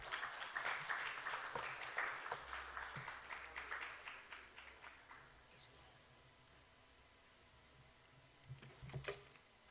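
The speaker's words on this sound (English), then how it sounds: "Please, a round of applause for him." Conference audience applauding a speaker at a real estate expo, a brisk round of clapping that fades out around six seconds, followed by a few faint scattered claps and small noises.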